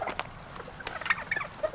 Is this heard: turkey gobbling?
yes